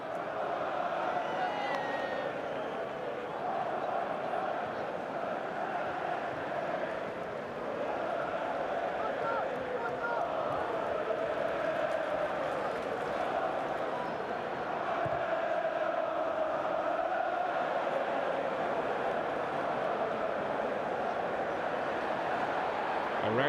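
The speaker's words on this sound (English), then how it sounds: "the Stamford Bridge crowd are chanting Mourinho's name" Stamford Bridge football crowd chanting during a League Cup match against Wycombe, a steady massed roar of voices filling the stadium throughout with no break.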